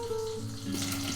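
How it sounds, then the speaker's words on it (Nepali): Hot cooking oil with water in it, a soft continuous sizzle and crackle close by, low in level, with a faint tonal hum running underneath. "त्यो तेलमा पानी परेछ क्या चिर गर्छ"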